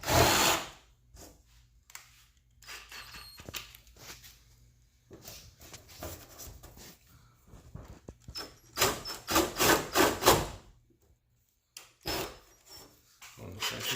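Power drill boring hood pin holes through the hood of an R32 Nissan Skyline, sounding in several separate bursts of whirring and grinding with quiet pauses between them, fairly close and without talk.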